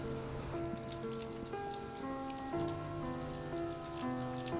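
Steady rain patters on surfaces during a thunderstorm on the Buffalo River Trail near Ponca, Arkansas, a continuous close wash of drops with no voices.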